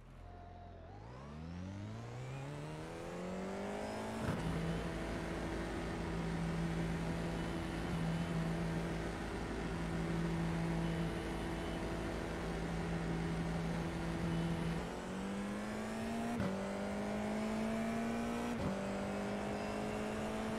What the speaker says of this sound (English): And we're racing Red Bull in the F4 car.